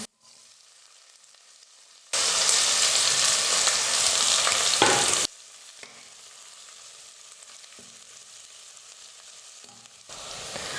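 Garlic, onions and curry leaves hit hot oil in a pan for a chickpea kuzhambu, a sudden loud burst of sizzling that lasts a few seconds, then settles into a quieter, steady frying hiss with light stirring.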